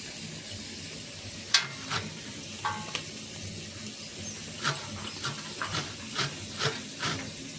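Taki fish frying in a pan, a soft steady sizzle with scattered crackles and light clinks, fairly faint throughout.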